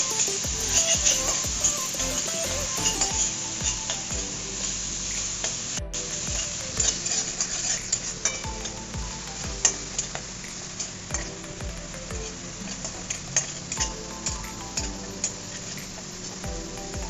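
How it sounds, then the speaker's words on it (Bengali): Onions frying over high heat in a pan for prawn pakoras, a steady crackling sizzle with repeated scraping and tapping from stirring throughout, no voices. "পেঁয়াজটাকে আগে একটু দিয়ে পর নেড়ে চেড়ে নেবো"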